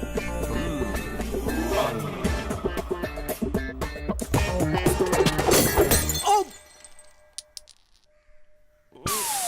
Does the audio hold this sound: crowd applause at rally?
no